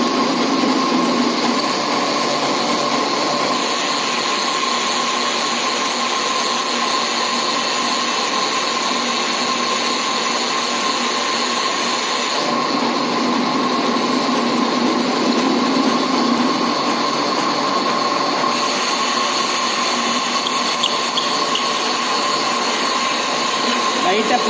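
A lathe runs steadily while cutting a left-hand thread with the half-nut engaged: a constant, even motor whine and hum with no breaks, fairly close, for the whole stretch.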